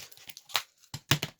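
Plastic packaging being torn and crinkled off a painting canvas, with short close rustling bursts and a couple of sharper rips, fairly quiet.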